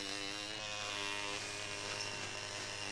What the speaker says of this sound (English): Just my electric toothbrush